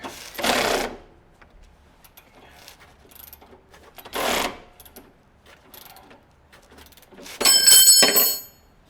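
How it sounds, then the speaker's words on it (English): A ratchet wrench backs a 17 mm bolt off a car during a coilover install on a JZX100 Cresta, heard as three separate bursts of ratcheting clicks with quiet gaps between them, close and clear. "And finish taking off this bolt."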